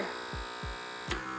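Steady low hum of a derma suction pore vacuum running on its low setting, close and faint, with a few soft throbbing pulses and a brief click near the end.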